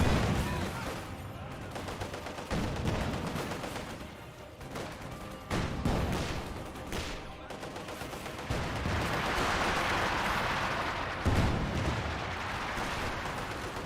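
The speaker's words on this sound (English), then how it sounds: "Bit of artillery ring on in there." An artillery barrage in Company of Heroes 2: repeated heavy booms and blasts at irregular intervals, mixed with scattered gunfire and a dense rumbling battle din throughout.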